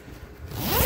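A zipper on an electric clothes dryer cover is pulled open in one quick, rising zip that grows louder toward the end of the short pull.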